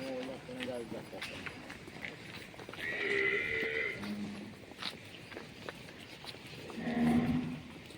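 Cattle at a shelter for old, sick and stray cows and bullocks, several of them mooing in short low calls around the middle and a louder, longer moo near the end, with people talking and footsteps throughout.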